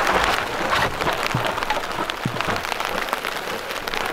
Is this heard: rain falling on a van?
yes